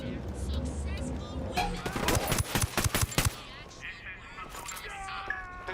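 Rapid bursts of automatic rifle fire in Ghost Recon: Wildlands, a dense run of sharp shots in the middle, with game audio and speech around it.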